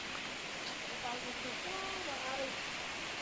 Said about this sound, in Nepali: एकदम खोला नालाहरू सब झर्ना छ।